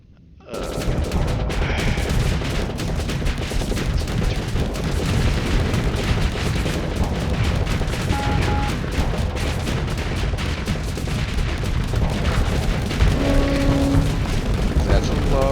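Heavy space combat in Starsector with cruisers trading fire, a dense, continuous barrage of missile blasts, gunfire and booming impacts with a few tonal weapon beeps, loud throughout.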